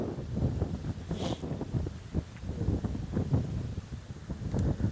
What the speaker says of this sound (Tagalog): So, hanggang ngayon, gano'n pa rin yung hangin. Wala pa rin tigil.